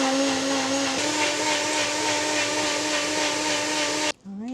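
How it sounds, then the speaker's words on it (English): Beats Health blender whirring loudly as it blends a drink, a steady high-pitched motor drone with a slight pitch shift that cuts off abruptly near the end. "You're about to just see me blend this up."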